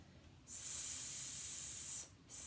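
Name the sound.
voice imitating a snake's hiss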